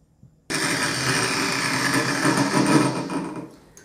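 An angle grinder slicing straight through a 2mm steel piece starts abruptly and holds a loud, steady, high-pitched cutting whine for about three seconds, then cuts off.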